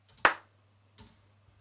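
A clap sample recorded at home and trimmed into one short sound plays back, a crisp, fairly quiet hand clap followed by a softer second clap under a low steady hum.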